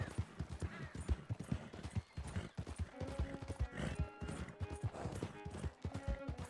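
A horse in Red Dead Redemption 2 on PS4 trots with quick, close hoofbeats, the clopping broken by a whinny partway through, with game sounds around it.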